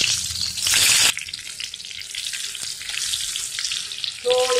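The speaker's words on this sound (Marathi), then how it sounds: "आपण वांगी तोडून घेऊ." Stuffed brinjals drop into hot oil in a kadhai, a loud hissing burst that settles into a steady, close sizzle with light scraping, no speech.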